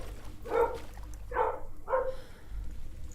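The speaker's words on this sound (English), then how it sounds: "It's not one of my videos without some barking in the background, is it?" A dog barks three times in the background, spaced about a second apart, moderately loud over a low room hum, with no speech.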